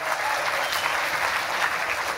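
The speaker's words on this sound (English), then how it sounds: "We should have that round of applause." An audience at a motivational talk breaks into a steady round of applause, dense continuous clapping filling the whole stretch at an even level with no voices on top.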